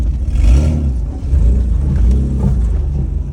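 A cheap Nissan Pathfinder driving off-road through the woods, its engine droning and revving loudly and steadily with no talk over it.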